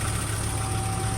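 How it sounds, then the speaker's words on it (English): A VW T4 van engine idles steadily with a constant low hum and a high whine on top, loud and unbroken with no talk. "Okay, so the engine is running,"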